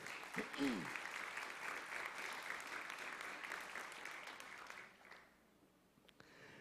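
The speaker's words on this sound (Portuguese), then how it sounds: "Você pode aplaudir ao Senhor?" Church congregation applauding during a celebration service, a steady, fairly distant round of clapping with a brief vocal cry near the start, tapering off and stopping before the end.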